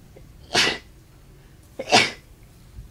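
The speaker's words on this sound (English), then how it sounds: "Ah, sneeze attack." Two sharp sneezes from a person, about a second and a half apart, loud and close against a quiet background with no speech.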